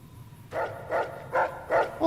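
A dog in the video game Fallout New Vegas barks four times in an even rhythm, the barks fairly close and alone.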